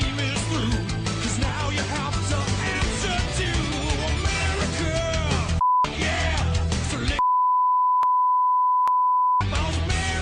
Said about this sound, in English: A lot of beeps.